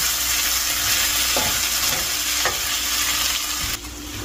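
Fish frying in a pan alongside carbs and vegetables, making a loud continuous sizzle close by with a few faint stirring scrapes and a sudden drop in the hiss near the end, no talking.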